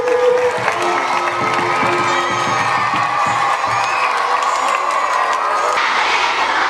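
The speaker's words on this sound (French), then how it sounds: "nous pouvons également accueillir l'abbé en applaudissant" A church congregation at a school Mass cheers and applauds to welcome back the abbé, a dense, continuous crowd roar with shouting children and clapping, loud and close throughout.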